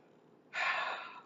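A person yawns once near the microphone, a sudden breathy intake that swells and slowly fades over under a second.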